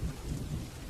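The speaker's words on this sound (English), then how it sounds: "Far below, thunder answers from the gathering storm." A deep, low thunder rumble rolls through a steady rain shower, a brief dense wash of rain and distant storm noise with no voices.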